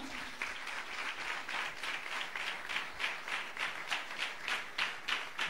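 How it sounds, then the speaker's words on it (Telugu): A church congregation at a Sunday service claps in praise of God, a rhythmic, unified beat of hands, steady and moderately loud, repeating evenly from start to finish. "ఒకసారి చప్పట్లు కూడా దేవుని స్తుతిద్దామా?"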